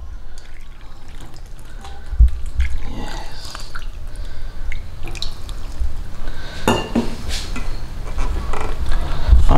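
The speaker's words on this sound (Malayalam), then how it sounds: "ഇനി വെള്ളം ഒഴിച്ചിട്ട് കുഴക്കുന്നവരായിട്ട് കേട്ടോ." Water poured into a bowl of parotta dough mixed with sugar, then squelching and slapping as the dough is kneaded by hand, with irregular splashes and knocks close by.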